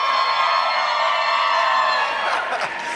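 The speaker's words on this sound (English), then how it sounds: "Make some noise for Adam." An arena crowd in Anaheim cheers for figure skater Adam Rippon during an intermission at the 2019 Four Continents championships, a loud sustained roar blended with tonal music for about three seconds.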